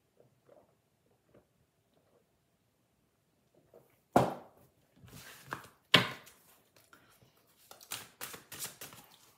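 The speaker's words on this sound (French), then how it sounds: "je mélange les cartes et on va regarder pour vous les béliers" Oracle cards being shuffled by hand, with a few sharp riffling and tapping bursts separated by quiet gaps, close and fairly loud, no talking.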